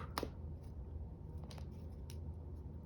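Scissors snip through a craft piece while trimming off a small tab, giving a few short, close cuts over a low background hum.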